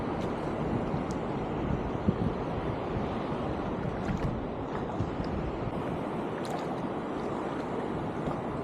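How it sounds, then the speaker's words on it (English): Waves break continuously over Nauset Marsh, a broad, steady roar of surf mixed with wind buffeting the microphone, heard from close by on the water with no voices. "Waves breaking over a marsh."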